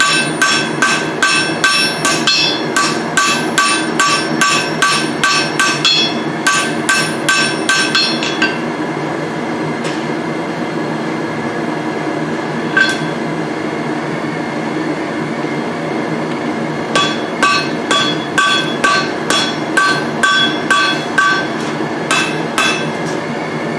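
A blacksmith hammers on hot steel to draw out the jaw of a pair of tongs, shaping a Z-offset; bursts of rapid, ringing hammer blows on the anvil, with a pause midway before the striking resumes.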